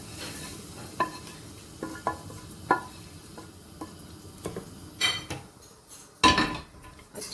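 Sarson ka saag stirred in a pot after a yogurt tempering is added, a spoon scraping and knocking against the metal in irregular clinks and taps over a soft background sizzle, with no talking.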